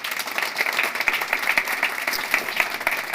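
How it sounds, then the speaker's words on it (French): Moderate applause from a small audience at a talk on pairing solar and wood energy for heating, a steady patter of individual claps with no voices over it. "Bravo, applaudissons"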